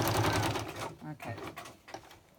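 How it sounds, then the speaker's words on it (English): A sewing machine whirs through a quick run of stitches, slowing and stopping in short bursts, with a voice speaking faintly over it. "And my sewing machine is not complaining."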